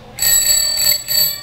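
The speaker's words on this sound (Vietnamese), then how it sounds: "có chiếc chuông rất là kêu." Bell on a vintage Thống Nhất bicycle rings in three quick bright metallic trills, close and loud, each leaving a ringing tone.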